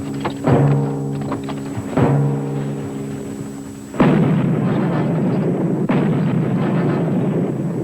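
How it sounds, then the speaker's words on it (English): Artillery fires at a high-flying aircraft: booming shots land around one and two seconds with resonant rumbling tails, then a heavier blast at four seconds rolls into a sustained roar, with another thud near six seconds. "Good heavens, they're firing artillery at him."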